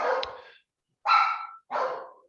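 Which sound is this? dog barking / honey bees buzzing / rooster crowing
dog barking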